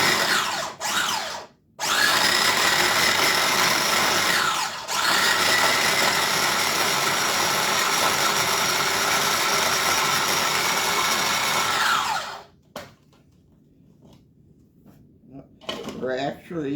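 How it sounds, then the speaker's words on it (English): A food processor blends whole unpeeled tangerines, a loud steady whirring grind running in long bursts with brief pauses, then stopping into quiet with a faint clatter at the end. "I'm just going to put this all in the food processor, just like that."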